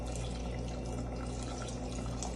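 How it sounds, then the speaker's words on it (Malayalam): A quiet, steady trickle of water pours continuously into a pot of onion and tomato for chicken curry, close by, with no voices. "ലേശം വെള്ളം ഒഴിക്കണം കുറഞ്ഞ വെള്ളം"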